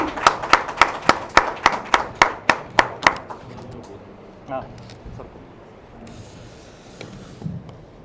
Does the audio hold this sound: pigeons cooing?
no